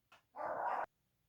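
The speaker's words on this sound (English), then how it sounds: "these dogs just keep barking" A dog gives a quick yip, then one short, sharp bark, faint and somewhat distant in an otherwise quiet room.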